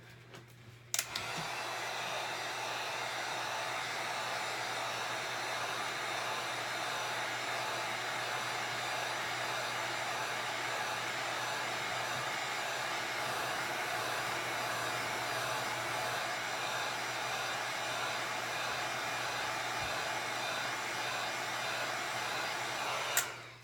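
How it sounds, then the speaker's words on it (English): A heat gun blows steadily on the base coat of a marble cup, a loud continuous whooshing hum that starts abruptly after a click and runs unbroken until it cuts off. "I will hit it with the heat gun just because I want to make sure it's got an even flow."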